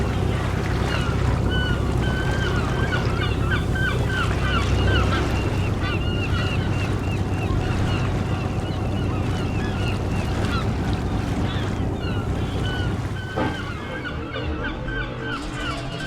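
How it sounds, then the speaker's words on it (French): Gulls squawking and calling in repeated bursts around fishing trawlers returning to a Mediterranean quay in the Camargue, over a steady low boat engine drone, fading slightly near the end. "de leur nuée de mouettes"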